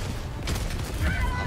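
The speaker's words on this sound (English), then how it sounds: "Too close to the explosion." A dense, rumbling burst of combat noise from a grenade explosion in Helldivers 2, with a low boom and crackling debris, loud and continuous, with faint voices underneath.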